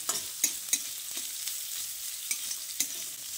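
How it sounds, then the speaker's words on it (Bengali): Chopped onion and garlic being stirred in a frying pan, a steady soft sizzle with several scraping stir strokes at irregular intervals, close and fairly quiet, no voices. "তারপর পেঁয়াজটা দিয়েও রসুনের সঙ্গে একবার ভালোভাবে নেড়েচেড়ে নিচ্ছি"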